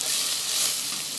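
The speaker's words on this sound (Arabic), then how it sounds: "علشان تتحمص مع البصلة وتطلع ريحتها." Onion and spices frying together in a pan, a dense, steady sizzle with a bright crackling hiss that stays loud and even throughout.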